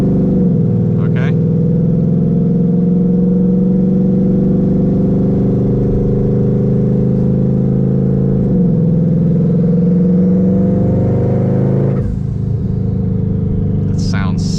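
A twin turbo Mustang of over a thousand horsepower with turndown exhausts holds a loud, steady rumbling idle near 3,000 RPM, a sustained drone with a brief dip around the twelfth second.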